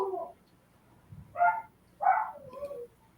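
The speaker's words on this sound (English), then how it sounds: "chatty dogs over here." Several dogs give short yipping barks and whimpering vocal bursts, three or four separate calls spaced apart, moderately close and fairly quiet.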